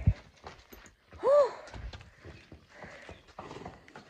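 Horses in a stable make soft clip-clop hoof thuds and shuffling, with one brief whinny-like call partway through, fairly quiet and intermittent.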